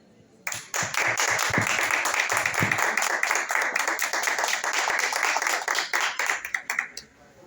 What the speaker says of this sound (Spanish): aplaudamos otra vez